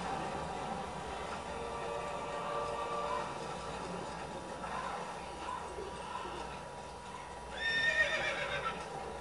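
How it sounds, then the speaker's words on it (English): A horse in the Assassin's Creed video game whinnies and snorts with hoof clip-clops, heard over steady game background noise, with a sharper neigh near the end. "That's a horse."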